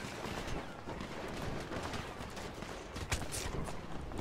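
Dense, continuous gunfire from a firefight in GTA V, with rapid overlapping shots at steady loudness and a few sharper bursts toward the end.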